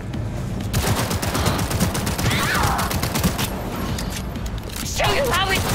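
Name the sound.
gunfire in the video game Cyberpunk 2077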